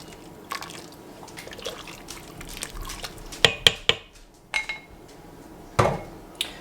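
A spoon stirs a hot red beans and rice mixture in an Instant Pot, with wet scraping and several sharp metallic knocks against the pot, close and intermittent.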